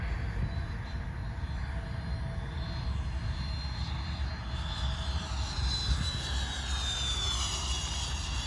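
Model T-33 jet aircraft with a maiden flight underway outdoors, a steady loud turbine roar with a high whine that shifts in pitch as it passes, continuous throughout with no talking.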